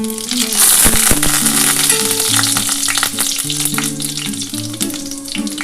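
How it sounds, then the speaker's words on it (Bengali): Panch phoron whole spices crackle and sizzle loudly in hot oil for an aloo tarkari, a dense continuous frying hiss with stirring, while a steady musical background plays underneath. "আমার তেলটা গরম হয়ে গেছে। এবার তেলের মধ্যে প্রথমে আমি কিন্তু 5 ফোড়নটা দিয়ে দিচ্ছি।"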